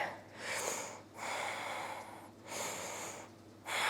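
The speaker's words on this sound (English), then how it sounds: "I am panting into this microphone today." Heavy panting breaths during a sweaty power vinyasa yoga flow, four loud close breathy huffs in a steady rhythm, each about a second long with short pauses between.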